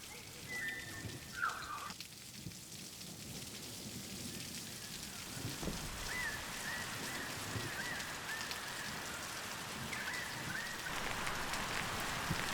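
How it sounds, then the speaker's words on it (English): Steady light rain falls around an off-grid cabin under roof renovation, a soft continuous patter with faint bird calls threaded through, fairly quiet and constant throughout. "it's starting to rain again."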